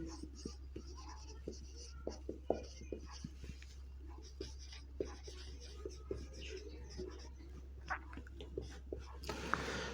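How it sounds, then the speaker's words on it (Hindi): Pen or marker writing during a chemistry lesson on mixtures: a quiet, steady scratching with short repeated strokes and taps throughout, under a low room hum. "अब लिखेंगे"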